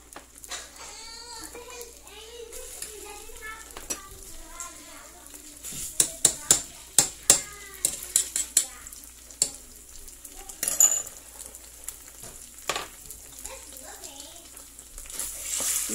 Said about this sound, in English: So we fried it until it smells good